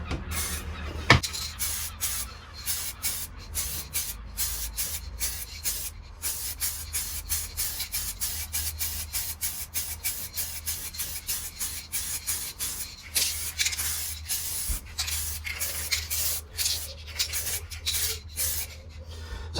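An aerosol spray paint can lays a light second coat on the front wheel of a 1998 Suzuki GSX-R 600 SRAD during a home restoration. Short hissing bursts repeat steadily, loud and close, with no talking.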